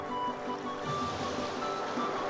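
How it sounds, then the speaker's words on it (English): Ocean waves from the video game Legend of Legaia, a steady washing surf with gentle swells under a faint tonal game backdrop, continuous and moderately loud. "we're swimming in the ocean."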